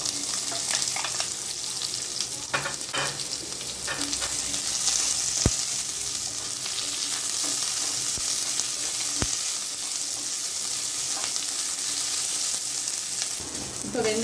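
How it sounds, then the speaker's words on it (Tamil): Onions sauté in a pan while cooking brinjal tomato gothsu, a steady close hiss and sizzle with occasional stirring clicks throughout. "இப்போ வெங்காயம் வதக்கிட்டு இருக்கு."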